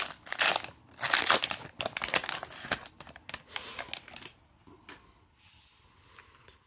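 Foil packets of 2024 F1 Turbo Attax trading cards being torn open and crinkled, a close run of loud crackling bursts for about four seconds, then quieter scattered rustles.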